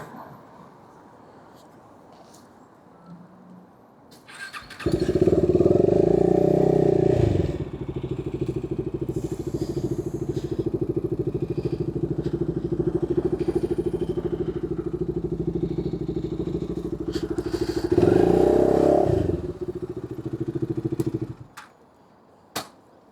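A motorcycle's engine idles steadily and close for most of the span, with bumps and clatter as the bike is shifted and parked, then it cuts off, leaving quiet.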